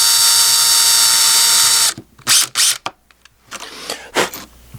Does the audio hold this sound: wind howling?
no